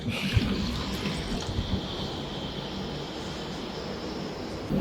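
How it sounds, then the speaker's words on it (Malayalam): A steady stream of milk, two cups, pours into a bowl, a soft continuous splashing rush with no talking. "ആദ്യമായിട്ട് നമ്മൾ 2 കപ്പ് പാൽ ഒരു ബൗളിലേക്ക് ഒഴിക്കുകയാണ്"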